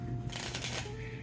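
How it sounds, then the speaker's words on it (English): Deck of marked playing cards on thick, tough card stock being shuffled, one quick close riffling burst that fades within about a second. "handling purposes and shuffling and doing all that type of stuff"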